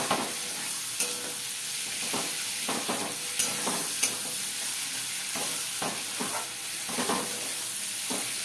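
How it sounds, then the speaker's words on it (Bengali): A pointed gourd curry sautés in a hot pan while being stirred: steady sizzling and frying hiss with repeated scraping stirs, close and continuous, with no talking. "এটা একটু ভালো করে সাঁতলে নেব আর সামান্য একটু পরে জল দেব।"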